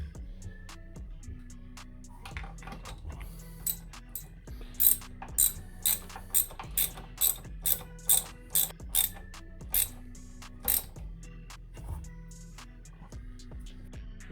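A ratchet tightening the clamps on a silicone air intake pipe at the supercharger of a Seadoo, a quiet series of about a dozen quick sharp clicks in an irregular rhythm, close up with no talking.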